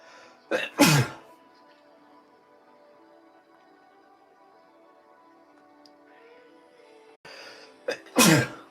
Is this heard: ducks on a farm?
no